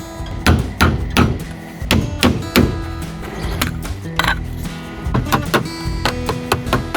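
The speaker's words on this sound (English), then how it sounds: "Then I'll nail these two together and then work on that fold over at the bottom." A hammer driving nails through metal drip edge on a 10x16 shed frame, a string of sharp close taps and clanks in quick uneven bursts with some rattling metal between.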